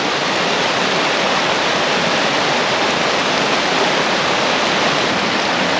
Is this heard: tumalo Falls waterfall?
yes